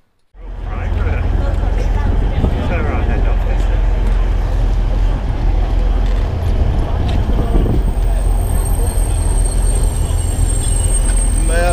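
Train noise on a TransPennine railway platform, a loud steady rumble of carriages with faint wheel squeal, continuous throughout with no clear speech.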